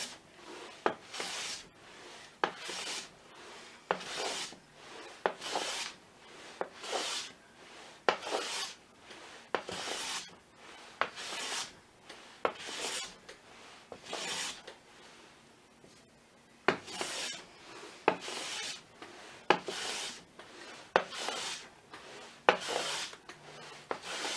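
A sharp hand plane smooths a wooden board in steady repeated strokes, each a close, rasping shave that starts and stops in a regular rhythm with short pauses between passes, heard alone without any talk.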